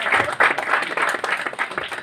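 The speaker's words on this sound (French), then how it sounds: "applaudissez de façon plus chaleureuse pour nos enfants" Warm applause for children at a gathering, a crowd clapping steadily and fairly close for a couple of seconds with no voices over it.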